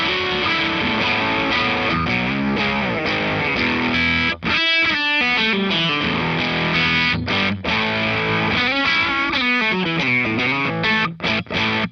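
Electric guitar played through a Bonsai overdrive pedal with some clean signal blended in, a loud, continuous driven tone with chords and melodic runs and a few brief choked stops.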